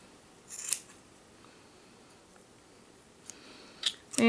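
Scissors trim a handmade yarn pom-pom for a crocheted beanie, giving a few quiet, close snips spread apart, with a cluster of quick cuts at the end.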